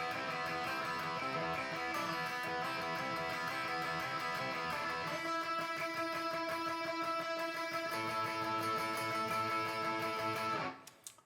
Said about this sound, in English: He's going to play these open string licks